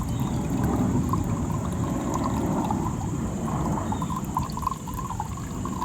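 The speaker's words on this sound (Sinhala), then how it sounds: "අපි මඩ වතුර දැම්මේ." Muddy water pours into a homemade water filter, a steady, low, churning rush that continues without pause for several seconds, close and moderately loud, with no voices.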